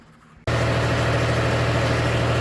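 A tractor engine starts up abruptly inside a shop after a short quiet moment, then idles loud and steady with a constant low rumbling drone.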